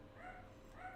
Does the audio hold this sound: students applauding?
no